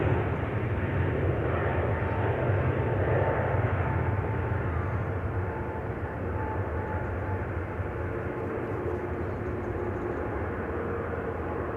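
A Transavia airliner bound for Barcelona flies over Amsterdam Schiphol Airport, its engines a steady, loud broadband roar that holds for the whole stretch with no voices.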